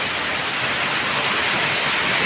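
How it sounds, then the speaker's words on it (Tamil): Sudden afternoon rain falling in Bengaluru makes a steady, dense hiss that stays at an even loudness throughout, close by and with no voices. "பெங்களூர்ல தண்ணி பஞ்சம் அதுக்கேற்ற மாதிரி கரெக்டா மழையும் பெய்யுது"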